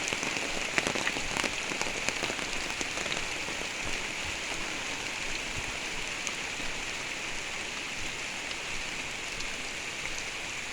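Heavy rain pours down in a village, a dense, steady hiss of drops hitting surfaces that continues unbroken and fairly loud throughout, with no voices.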